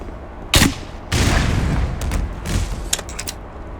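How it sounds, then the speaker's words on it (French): Grenade launcher fire in the video game Black Mesa, a Half-Life 1 remake: a sharp loud blast, then a second heavy burst with trailing rumble and several smaller crackling impacts, no talk. "Un snipe au lance-grenade"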